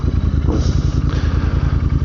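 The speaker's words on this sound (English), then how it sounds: "because the motorcycle seems a little too loud" Royal Enfield INT650 engine thumps loudly and rhythmically while riding through cold winter city streets, a dense pulsing beat close to the listener with faint wind.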